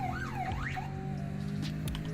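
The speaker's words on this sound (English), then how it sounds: "I don't know why they added a car alarm for one" A police car alarm in the Roblox game Greenville, Wisconsin, cycling through loud, warbling electronic whoops and sweeping tones, then settling into a steady pulsing pattern with no talking.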